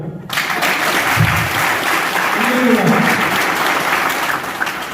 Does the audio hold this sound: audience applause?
yes